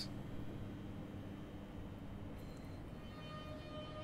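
Class 465 electric trains arrive at and depart from Dartford station in a train simulator game, a steady low rumble and hum of rolling stock with faint tonal whines rising near the end.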